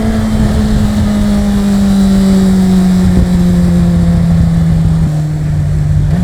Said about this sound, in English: if you're mad enough to sit there and listen to that exhaust note